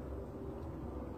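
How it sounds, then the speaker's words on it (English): A low, steady rumble of a distant airplane drones continuously, broad and muffled without any distinct beat. "You can hear that roaring sound. That's a plane behind me."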